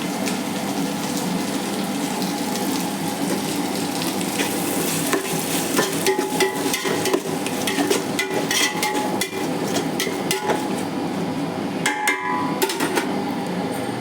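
Ginger-garlic paste frying in a little oil for a green chicken masala gives a steady, dense sizzle throughout, with occasional stirring scrapes over the hiss and no talking.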